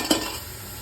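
Whole garam masala spices hitting hot oil in a pan for chicken curry, a brief sharp sizzle with a stirring scrape, then a steady hiss of frying.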